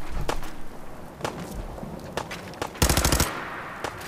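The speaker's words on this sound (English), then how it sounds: "Let's try the auto pipe pistol." Auto pipe pistol fired in the video game Fallout 4: scattered single shots, then a loud rapid automatic burst near the three-second mark, followed by one more shot.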